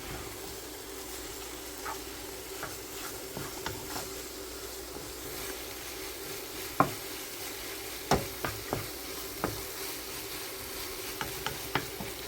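Turkey taco meat with tomato paste sizzles in a frying pan, a steady hiss of frying broken by a scattering of scraping stirs and clacks from a utensil.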